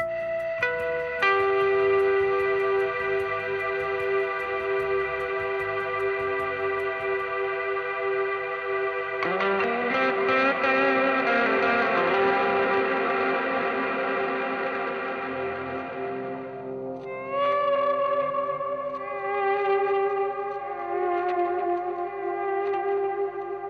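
Electric guitar played through an MXR effects pedal with delay and reverb, sustained chiming notes and chords blooming into long echoing tails and swells, loud and alone with no talk.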